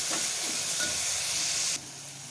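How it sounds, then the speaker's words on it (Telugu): Leafy greens frying in a pan, a steady close sizzle and hiss that continues throughout and drops slightly near the end. "చూడండి, కొంచెం ఫ్రై అయినట్టు తెలుస్తుంది కదా."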